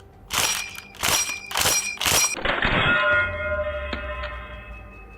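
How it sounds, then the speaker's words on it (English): A LEGO model of an M1 Garand rifle working its action: four sharp, clattering plastic clicks in quick succession, then a rattling ejection and pieces landing and ringing out, close and fairly loud, with no talk. "it wouldn't be an M1 Garand if it couldn't clip eject, right?"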